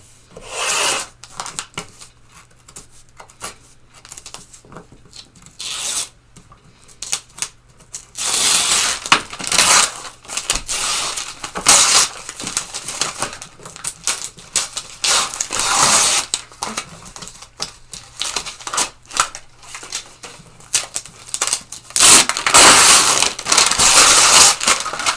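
Small scissors scoring stretch velvet held taut in an embroidery hoop, giving irregular scratchy rubbing and rasping strokes that come in bursts and grow louder and denser toward the end, with no talking.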